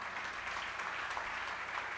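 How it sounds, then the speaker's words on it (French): Quiet, distant audience applause at a church congress assembly, a continuous soft wash of clapping with no distinct individual claps. "Cela ne mérite-t-il pas vos applaudissements?"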